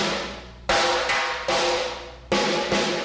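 Five loud snare drum hits in an uneven pattern, each ringing out briefly, with the tone shifting between strikes; close and unaccompanied.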